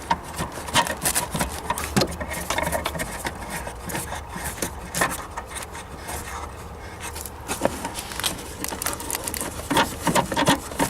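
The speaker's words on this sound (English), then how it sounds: "So we turn the two bolts back on" Tightening two bolts on an Opel Corsa D tail light, close scraping, rubbing and ratcheting turns in an irregular rhythm, moderately loud with handling noises throughout.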